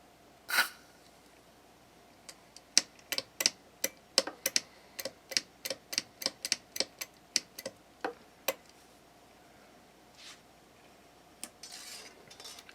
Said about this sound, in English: Put some deoxit in this switch because it's a little noisy.